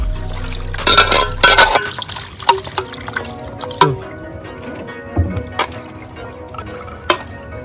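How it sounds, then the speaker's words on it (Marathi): Chicken being rinsed with clean water outdoors for a biryani: a burst of pouring water at the start, then a series of separate splashes and wet handling knocks, close and moderately loud, without speech. "आता आपल्या स्वच्छ पाण्याने धुवून घेऊ."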